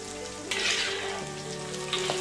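An egg omelette with green beans fries in a pan, a continuous crackling sizzle with a few louder spitting bursts, close and alone without talk.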